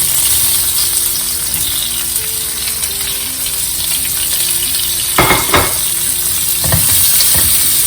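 Chopped onions hitting hot oil with cumin seeds, cloves, star anise and a cinnamon stick, a loud continuous sizzle with a few sharp clinks and scrapes of a utensil against the pan late on.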